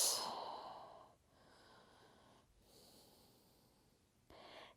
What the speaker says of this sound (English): 2 breaths.